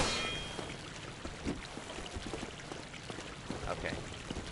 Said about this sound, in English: the splashing of my character's footsteps in the water